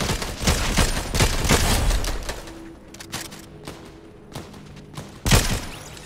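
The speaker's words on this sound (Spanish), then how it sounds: "¿Quién me está disparando?" Rapid bursts of gunfire in the video game Fortnite crackle loudly, clustered volleys early on, then sparser single shots and a sharp final burst near the end.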